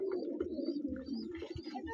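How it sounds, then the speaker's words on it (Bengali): Pigeons cooing inside a loft housing about forty-four pairs, overlapping low throaty coos close by, with faint chirps and rustling behind them. "44 জোড়ার মতো কবুতর আছে"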